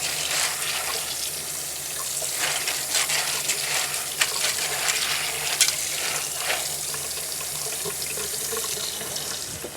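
Tap water runs steadily into a sink as a whole bag of dry white beans is rinsed, water splashing and beans clicking and rattling against the basin throughout.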